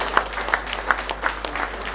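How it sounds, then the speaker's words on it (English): Audience applause at a mobile product launch, a steady round of many hands clapping with distinct sharp claps popping out at regular intervals, moderately loud and without talk. "that deserves another round of applause"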